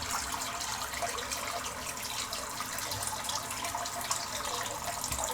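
Water runs steadily from a tap while more water is added to a too-dry shaving lather, a continuous close rushing splash with no pauses.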